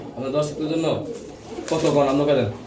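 Pigeons cooing at a market where pairs of pigeons are being sold, with soft repeated coos close by and people talking over them.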